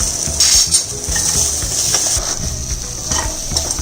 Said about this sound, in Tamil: வதங்குறோம், கிளறி விடும்.